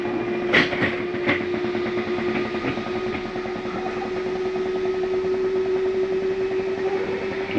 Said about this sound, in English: That's just a slide mechanism telling itself not to come in any further.